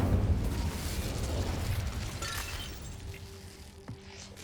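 Incendio fire spell cast in Hogwarts Legacy: a loud burst of flame at the start that trails off into a fading, rumbling roar, with a faint mechanical click near the end.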